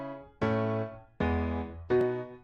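Three sustained chords built in FamiStudio, the NES chiptune tracker, each struck cleanly and fading slowly before the next, with bright square-wave harmonics and no voices.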